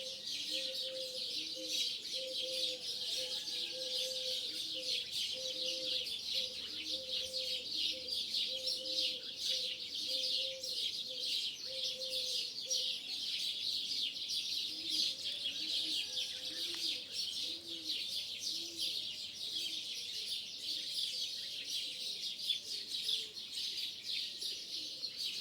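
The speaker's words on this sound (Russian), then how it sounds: "Петухи, горлица, еще какие-то мелкие птицы." Outdoors, roosters crow and a turtle dove repeats soft cooing phrases while small birds chirp and tweet throughout, all moderately distant over a steady background hiss with no talking.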